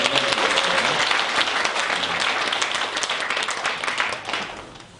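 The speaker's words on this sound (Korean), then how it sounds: "우리 부채춤 워십팀에게 다시 한번 정리의 박수를" A church congregation applauds a fan dance worship team at a Sunday service, sustained dense clapping that fills the room for several seconds before thinning out at the end.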